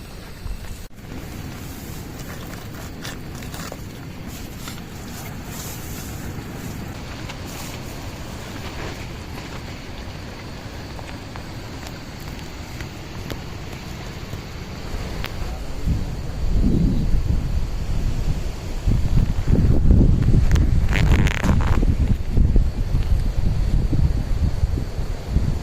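Wind gusting through the Sinharaja rainforest in Sri Lanka: a steady broadband roar that swells louder in the second half, with rumbling low surges like thunder and rain mixed in, no voices.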